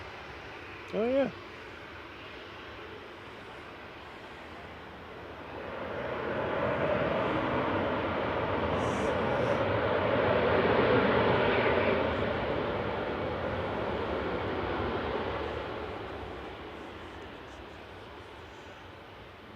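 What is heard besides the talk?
airliner from Brussels landing at Manchester Airport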